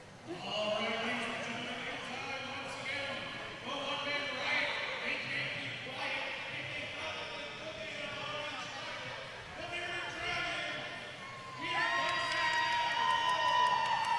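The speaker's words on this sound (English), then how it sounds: "And you can hear people cheering." Crowd cheering and shouting fills a roller derby arena at Ted Reeve Arena before a Hogtown Roller Derby bout, a loud, steady roar of many voices with swells of excitement and a brighter surge near the end.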